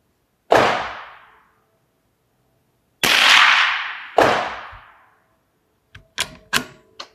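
Small-caliber rifle shots fired through a suppressor, three sharp close cracks with decaying tails spaced a second or more apart, then a quicker cluster of shorter, fainter pops.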